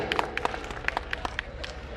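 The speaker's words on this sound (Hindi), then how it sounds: "एक बार जोरदार तालियां प्रवेश जी के लिए।" An audience applauds a donor at a Jadaun Rajput Ekta Dal mahasammelan in Faridabad, with scattered, fairly faint claps over a low crowd murmur.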